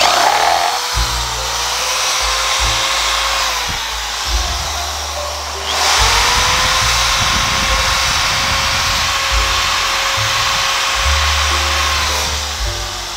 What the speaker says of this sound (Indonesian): Jadi ini kita bor dulu.